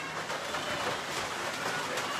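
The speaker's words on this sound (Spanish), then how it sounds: "Epa, ahí va apretando la lluvia." Steady rain falling outdoors during an open-air cooking session, a dense, even hiss with no breaks, heard close and fairly loud, with no talking.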